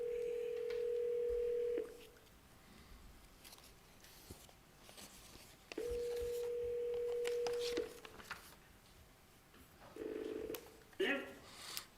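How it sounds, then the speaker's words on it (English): A desk telephone in a college board of trustees meeting dials out for a speakerphone call, with two long steady dial tones, a burst of keypad beeps, then brief clicks near the end. "We'll take 10 seconds until Dr. Spearman makes the phone call to our trustee"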